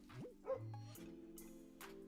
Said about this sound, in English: Hear the doggy in the background?